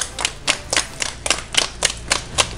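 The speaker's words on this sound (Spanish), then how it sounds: "Un aplauso." Applause for a recovered doctor leaving a hospital, heard as crisp, evenly spaced claps in a quick steady rhythm, close and fairly loud, with no voices over them.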